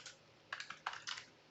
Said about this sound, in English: typing is good. Yeah, typing.